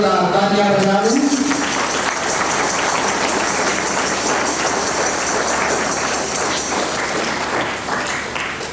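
Loud, sustained applause from a large crowd at a wedding ceremony, dense clapping that fills the whole stretch after a brief voice at the start.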